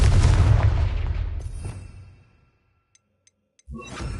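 A Confringo blasting spell explodes in Hogwarts Legacy with a loud, deep boom that rumbles and fades over about two seconds, followed by a few faint ticks and a second burst of noise.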